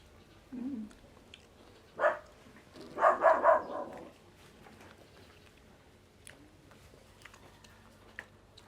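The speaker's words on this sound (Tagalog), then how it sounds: "May aso." A few faint, scattered dog barks at an outdoor breakfast cooking spot, brief yelps spaced apart with quiet gaps between them.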